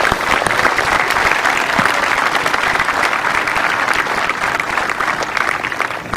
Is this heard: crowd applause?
yes